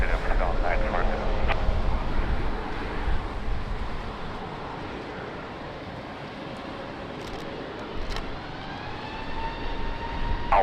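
A jet airliner rolls and climbs out from runway 20 at Lisbon Airport on a rainy day, a broad engine roar heard from a distance, with a rising whine near the end and voices talking over it.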